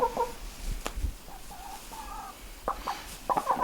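Sex-Link laying hens cluck softly in a backyard flock, with scattered low clucks and short murmuring calls spread across the stretch, close but quiet, plus a few brief sharper notes near the end.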